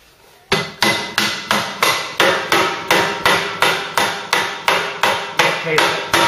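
Hammer striking a stuck part on a Mk3 Ford Cortina during a classic car restoration, about nineteen sharp metallic blows in a steady, evenly spaced rhythm, loud and close with nothing else heard.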